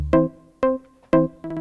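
A Roland MC-303 groovebox pattern plays dry with no effects: four short, punchy synth stabs in a steady rhythm, close and clear, each cutting off quickly with no tail.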